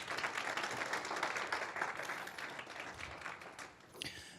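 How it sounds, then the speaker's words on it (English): Graduation ceremony crowd giving a round of applause as an award presenter is called up, with a steady, dense mass of clapping from a sizeable audience heard from a distance, fading at the end as a voice starts. "Please give a round of applause for Dr."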